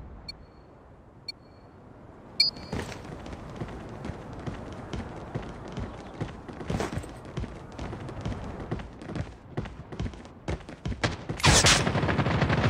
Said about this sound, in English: Rapid fire.